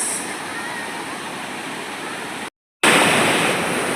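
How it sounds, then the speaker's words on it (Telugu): Sikaparu waterfall roars as dense, steady broadband rushing water, interrupted by a brief silent gap before the loud rush resumes. "సికపరు వాటర్ ఫాల్స్"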